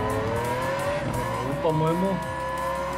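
A toy car races in the Hot Wheels Unleashed video game, its engine whining loud and close with shifting pitch and squealing tires, while a person talks over it.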